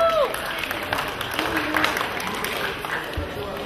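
A crowd claps for a karate award winner at a Shinkyokushin championship prize ceremony in Wołomin. The applause is moderately loud and sustained, and a voice is briefly heard at the start.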